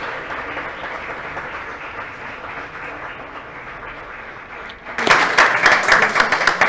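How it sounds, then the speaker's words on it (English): Audience applause rises sharply for the committee members at a Colombian transitional justice event, following a stretch of quieter room murmur, loud dense clapping filling the final couple of seconds. "please, a round of applause for the members of the committee"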